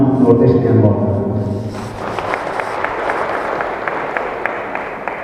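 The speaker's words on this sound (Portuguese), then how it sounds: "Eu quero pedir uma salva de palmas sobre o nosso secretário da nossa União Nordeste de Angola." Church audience at a symposium in Malanje, Angola, breaking into applause after a spoken request, the clapping starting partway through and continuing as a dense, steady crowd patter after a voice fades.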